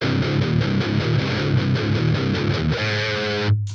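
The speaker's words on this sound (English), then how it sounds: "So we've got our distortion" Distorted electric guitar played through a Vox ToneLab EX modeling processor, recorded directly: a dense, saturated riff of chugging chords, ending on a held ringing chord that cuts off abruptly.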